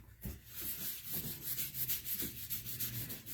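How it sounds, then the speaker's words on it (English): Wax applicator rubbed over a board, giving soft, quiet scrubbing strokes in an uneven back-and-forth rhythm, close up and with no speech. "So we're going to put some wax on the applicator, and we're just going to rub it all over the board."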